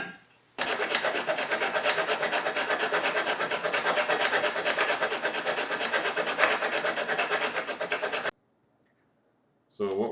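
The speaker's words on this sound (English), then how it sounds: "we're lapping in these two surfaces where we take two metal surfaces with an abrasive put in between them, rubbing them back and forth like this" Two metal surfaces of a Stanley Bailey Type 13 plane, frog against its seat, lapped with abrasive between them, giving a close, steady gritty rasp of rapid back-and-forth rubbing that runs for several seconds and then stops abruptly.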